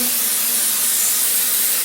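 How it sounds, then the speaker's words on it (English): A steady, continuous hiss of aerosol spray baste sprayed onto fabric, close and loud, holding evenly for about two seconds with no talking. "I am going to spray baste the fabrics together."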